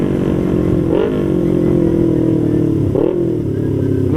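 A motorcycle goes by on an Australian road, its engine note rising and falling steadily with two brief revving surges as it passes, loud and continuous with no talking.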